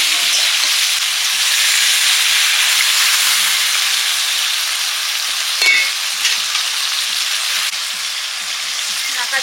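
Hilsa fish head curry sizzles hard in a hot pan as water is added, a steady loud frying hiss with small pops and a brief stir, no talking.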